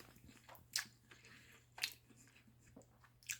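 Someone takes a bite of homemade Instant Pot spaghetti with three meats, slightly undercooked noodles, giving three soft, close, wet chewing bursts spaced about a second apart over a steady low hum.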